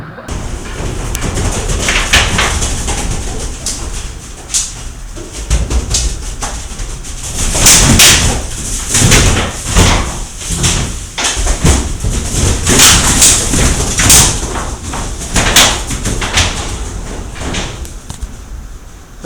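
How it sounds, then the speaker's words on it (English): Capuchin monkeys running and wrestling across the roof of a hostel in an Ecuadorian Andes town, heard from below as a continuous loud clatter of thumps, scrambles and bangs overhead. "That was the sound of capuchin monkeys running and or wrestling across the roof of my hostel."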